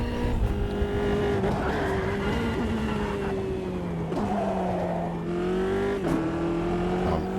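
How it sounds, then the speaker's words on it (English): A Dallara F301 Formula 3 car in a racing video game accelerates in repeated short throttle bursts, its engine note rising and dropping with gear changes, loud and continuous without talk. "Just trying to be patient, picking up the throttle and dabbing it like Senna a little bit"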